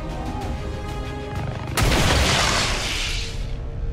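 The capacitor discharge ability fires in XCOM 2 as a single sudden heavy boom with a crackling electric burst that decays over about two seconds, following quieter ambient game sound.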